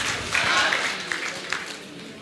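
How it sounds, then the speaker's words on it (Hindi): An audience claps in applause at a business seminar in Varanasi, a brief burst of mixed handclaps that tapers off over a couple of seconds. "जोरदार तालियां हो जाए"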